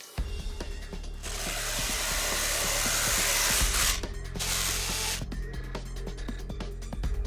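A jigsaw cuts through a clamped plexiglass panel with a loud, buzzing, continuous roar, breaking off briefly midway and starting again, with rattling clicks before and after.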